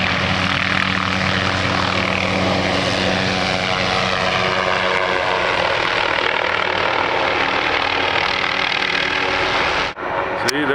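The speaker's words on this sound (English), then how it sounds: "See, there's the helicopter." A helicopter stringing lines across a freeway: a steady, loud engine drone with beating rotor tones passes close by, continuous until it cuts off abruptly near the end.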